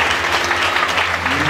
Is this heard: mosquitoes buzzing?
no